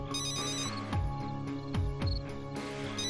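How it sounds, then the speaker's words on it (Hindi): A telephone ringtone repeats in a steady electronic melodic pattern, fairly loud and close, sounding on its own with no voices over it. "काफी देर से ये फोन बज रहा है मगर हमने नहीं उठाया सर।"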